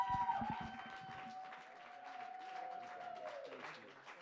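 Thin, scattered applause from a comedy show audience, light and loosely paced, with a sustained tone and some voices mixed in over the clapping.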